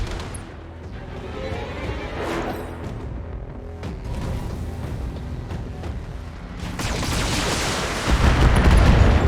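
Mech weapons in the BattleTech video game, a dense barrage of booming shots and crackling impacts layered over a steady rumbling bed, growing louder and heavier in the final seconds.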